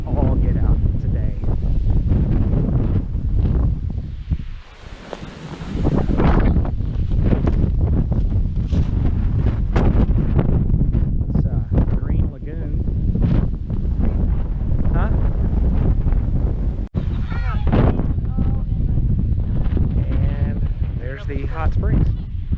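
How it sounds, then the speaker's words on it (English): Strong gusts buffet the microphone among giant palm trees in Texas, roaring in long surges with a brief lull midway while a voice talks underneath. "It is windy as all get out today."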